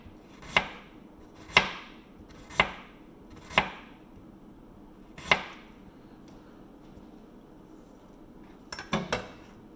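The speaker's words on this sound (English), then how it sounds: "So you got a big piece of ginger. I'm just going to cut it really thin right now." A knife chops through a large piece of ginger on a cutting board in a home kitchen, five distinct crisp cuts spaced about a second apart, then a quick cluster of clicks at the end, close and alone.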